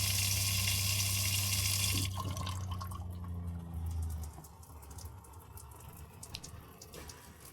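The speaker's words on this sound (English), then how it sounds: "I run the faucet and shower again to flush the plumbing lines." Water running from a faucet and shower in a Casita travel trailer, a steady broadband rush that cuts off after about two seconds, leaving a quieter trickle and drips into the sink.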